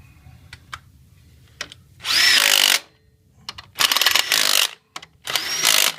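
Three loud bursts from a power drill or driver fastening bolts during a Ford 7.3L Powerstroke diesel alternator replacement, each a couple of seconds long, with quiet clicks and pauses between them.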